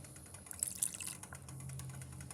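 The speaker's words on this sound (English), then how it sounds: "just add 1/4 cup of water" A quarter cup of water is poured into a pan of creamed pearl onions that have been cooking for about twenty minutes, a brief, faint trickle with no voices.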